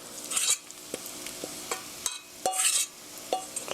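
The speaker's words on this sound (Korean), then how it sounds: "여기에 만들어 놓은 반죽 다 부어주세요." Vegetable pancake batter hits a hot frying pan, giving a soft sizzle broken by sharp clinks and scrapes of a utensil against the pan, some swelling into brief louder hissing bursts.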